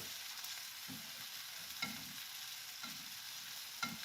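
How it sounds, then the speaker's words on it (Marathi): Spices dry roasting in a pan for an akkha masoor dish, with soft scraping stirs about once a second over a faint, steady sizzle. "मी इथे बाजूलाच हे भाजत आहे"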